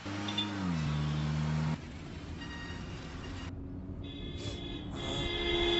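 A moving vehicle driving, steady engine drone and road rumble with a tonal hum that shifts partway through, loud and continuous.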